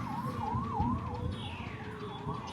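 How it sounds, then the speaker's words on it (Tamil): A wailing ambulance siren sweeps up and down continuously, with a second siren tone sliding downward as it passes, heard over traffic rumble. "ஆம்புலன்ஸ் போகுதுடா"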